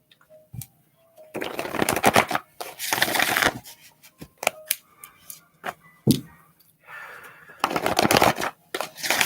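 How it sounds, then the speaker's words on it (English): A combined oracle card deck is shuffled in repeated bursts of riffling and flicking cards, loud and close, separated by short pauses. "Shuffling up the combined oracle deck for today's show."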